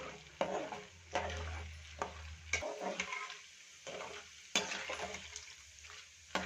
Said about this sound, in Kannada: ಈಗ ಹುರಿಗಡಲೆನ ಹಾಕೋತಾ ಇದ್ದೀನಿ. ಇವನ್ನು ಕೂಡ ಅಷ್ಟೇ ಚೆನ್ನಾಗಿ ಫ್ರೈ ಮಾಡ್ಕೋಬೇಕು.